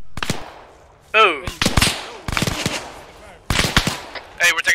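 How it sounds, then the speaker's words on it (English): Gunfire in the military shooter ArmA 3, with loud sharp shots and short bursts fired nearby in several separate volleys, mixed with voices calling out. "Hey, we're taking fire from the east."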